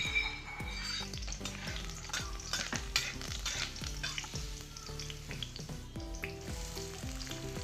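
Curry leaves tossed into well-heated oil in a kadai, sizzling and crackling steadily throughout, with a repeating melodic tune playing on top.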